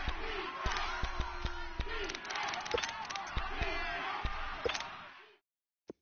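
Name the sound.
stadium crowd noise in PS4 football video game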